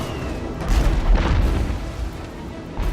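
Mortar shell blasts in the naval combat game Abandon Ship: a pair of deep, rumbling booms with a rolling low-end tail, fairly loud and close, with no talking.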